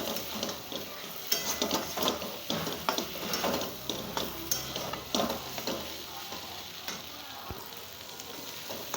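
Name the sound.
soybean chunks stir-frying in spiced oil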